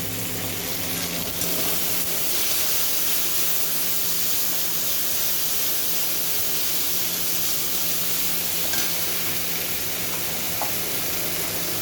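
Raw cumin paste frying in a pan for a prawn curry, giving a continuous, even hiss and sizzle with soft spattering throughout, close by and with no talk.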